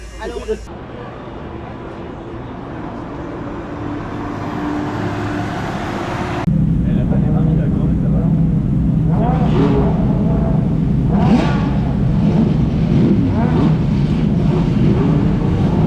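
Classic race car engines idle and rumble in the Spa Classic paddock, a steady loud drone of several engines that swells after a few seconds, with a continuous mix of motor noise and crowd, and people talking faintly.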